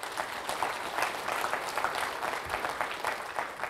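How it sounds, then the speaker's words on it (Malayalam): A church congregation clapping together, a dense steady wash of hand claps running throughout at moderate distance with no clear talk. "ഒന്ന് കൈയുയർത്തി കൈയടിച്ച്"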